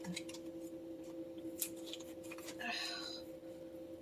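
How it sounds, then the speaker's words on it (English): Scissors snipping into a plastic package of ground turkey in a kitchen, a few crisp cuts followed by a brief tearing rustle, quiet and close over a steady background hum, with a voice murmuring faintly. "let's go ahead and cut into our ground turkey here and get it added in"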